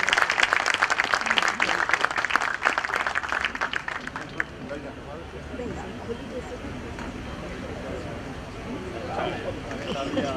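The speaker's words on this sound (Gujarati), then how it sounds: "આ મહાનુભાવ માટે આપણે જોરદાર તાળીઓથી એક વખત થેન્ક યુ" Enthusiastic applause at a literature festival rings out for about four seconds, then fades as a voice starts talking over a quieter room.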